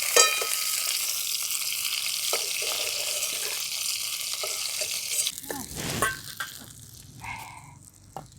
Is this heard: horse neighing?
no